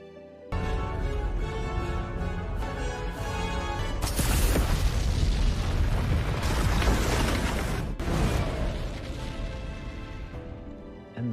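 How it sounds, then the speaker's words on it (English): A massive geyser eruption from the film 65 bursts into a loud, sustained roaring blast that swells around the middle and gradually fades, with no talking over it. "The blinded theropod returned to Mills's trap and was killed by the second geyser explosion"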